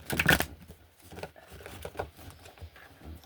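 A quick riffle of cards at the start, followed by softer scattered taps and card shuffles close by.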